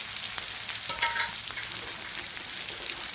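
A spicy omelette stir-fried with green peppercorns sizzles steadily in a hot pan, with a brief scraping clatter of stirring partway through and no talking.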